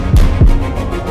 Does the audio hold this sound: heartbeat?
yes